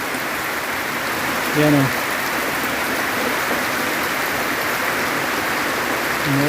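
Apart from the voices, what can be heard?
rain falling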